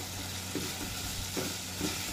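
Pinakbet vegetables stirred and frying in oil in a pan, a steady close sizzle broken by a few soft scraping stirs, with no talk.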